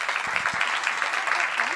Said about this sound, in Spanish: le damos un aplauso y adelante